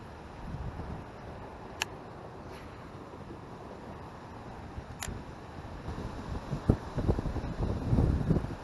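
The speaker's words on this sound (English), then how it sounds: "Yeah, it's hard with this wind." Gusty wind buffets the microphone on a windy fall day out fishing for largemouth bass from a boat, a low rumbling roar with a few faint ticks, building into stronger, louder gusts toward the end.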